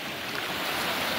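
Water pours steadily into a swimming pool from a small waterfall, giving a continuous rushing wash that stays close and even for a moment, with no voices.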